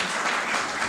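Audience applause for a website creator being introduced at a book presentation event in Los Angeles, a steady wash of clapping filling the whole brief moment without any voices.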